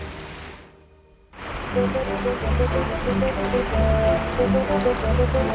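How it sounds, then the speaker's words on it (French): After a brief near-silent gap, a dense, steady wash of rushing water starts up and keeps going, loud and continuous like a heavy downpour. "Je t'avais dit qu'il allait pleuvoir à verse."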